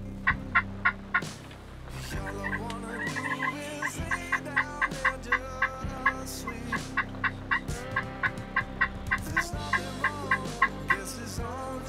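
Several wild turkey toms in Minnesota gobble repeatedly in full strut, loud and close, their rattling calls overlapping in steady bursts across the whole stretch with no talk.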